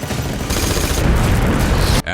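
Gunfire from a film battle scene as a team fires upon a Diablos monster, dense loud rapid shots blending into a continuous roar of blasts and rumbling, ending abruptly.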